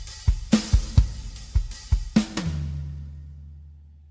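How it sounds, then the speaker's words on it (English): A sampled rock drum kit from Native Instruments Studio Drummer plays a short pattern of punchy kick and snare hits with cymbal crashes, then lets a final low ringing tone decay into silence. "Rock Drums, which has Native Instruments Studio Drummer instrument on it."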